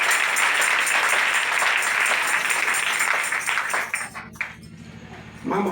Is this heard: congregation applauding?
yes